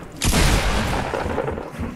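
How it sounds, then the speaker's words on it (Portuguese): A gunshot in the video game Fortnite hits as one loud, booming blast with a sustained roar trailing behind it. "Eu errei o tiro, mano."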